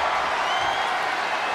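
Arena crowd in the WWE 2K24 wrestling game roars steadily, a dense wash of cheering and applause that stays loud and unbroken, with no clear voices rising above it.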